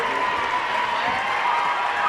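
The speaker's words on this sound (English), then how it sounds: "You hear the crowd in the background celebrating the win by Clarion area." A crowd at a high school volleyball playoff match cheers and applauds a win, a steady wash of distant cheering and clapping in a gym.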